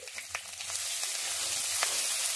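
Ginger sizzles in hot oil alongside garlic and whole spices for an egg tarka, a dense close frying hiss that grows a little louder, with a few light stirring taps near the start.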